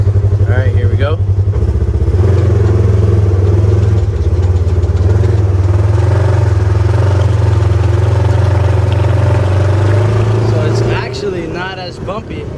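A Polaris RZR 1000 side-by-side rolls on 32-inch Assassinator tires, its loud, close engine droning steadily and rising in pitch as it picks up speed, while a voice talks briefly over it at the start and near the end.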